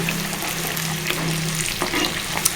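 Chopped onion pieces sizzle in hot oil in a pan, the base for a broad bean and tomato curry: a steady, close frying hiss with faint clinks, and no talking.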